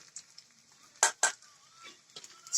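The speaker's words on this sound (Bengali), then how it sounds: "এভাবে কড়াইয়ে যতগুলো দেওয়া যায় ততগুলো একবারে দিয়ে" Data greens leaf pakoras are dropped one after another into a kadai of hot oil. Two sharp, close splashy clinks stand out from a faint, quiet background, with a few softer taps and a light burst at the end.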